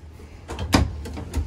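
A storage drawer beneath the bed of a 2021 Keystone Bullet 258RKS travel trailer is opened, giving a few close, short wooden knocks and sliding clunks with no talking.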